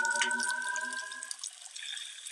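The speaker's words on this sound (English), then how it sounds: "Sebastian and the somethings got a hose and turned on the water" A garden hose is turned on: a thin whistling squeal from the tap fades into a soft, steady rush of running water.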